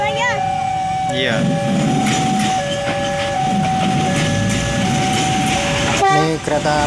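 Commuter train from Mojokerto rolls into Surabaya Kota station on tracks above houses, loud and close with rumbling wheels, clattering cars and horn tones, while people talk over it.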